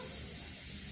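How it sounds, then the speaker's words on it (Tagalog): Running water hisses steadily from a tap while dishes are washed outdoors, a short continuous splash close by with no voices. "Nahuhugas po ng ating pinggan."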